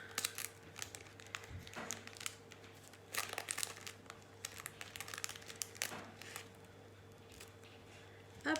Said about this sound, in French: je découpe les carrés au fur et à mesure avec ce petit stylet là